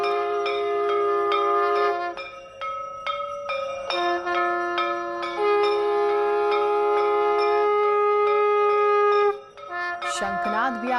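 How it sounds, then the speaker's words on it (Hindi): A conch shell is blown and temple bells ring during worship, producing long sustained tones over repeated metallic strikes, with a brief louder burst near the end. "शंखनाद भी आप सुन पा रहे हैं, घंटों की आवाज भी आपके कान में पहुंच रही है"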